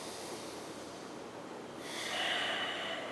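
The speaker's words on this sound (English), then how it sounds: "Inhale." A deep yoga inhale drawn in through the nose, a soft breathy rush that swells and brightens partway through, close and steady with no talking.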